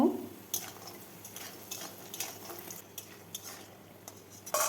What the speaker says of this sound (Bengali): সরিষার তেল দিয়ে দিলাম ডালের বড়িগুলো ভেজে নেব